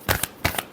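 Tarot cards are shuffled up close in a quick pair of papery riffling bursts, each a short crisp flutter of cards.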